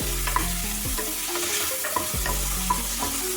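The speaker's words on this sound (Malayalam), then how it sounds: "ഇനി ഇതിലേക്ക് നമ്മൾ മാരിനേറ്റ് ചെയ്ത് വെച്ച മട്ടൺ ഇട്ട് കൊടുക്കുകയാണ്" About 250 grams of marinated mutton sizzles in hot oil in a pan as it is sautéed. Close, steady frying runs under repeated scraping stirs, with no talking.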